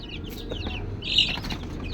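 Chickens and chicks shuffling around a coop near nesting boxes and water containers, with brief wing flaps and soft chirps over a low rustling background.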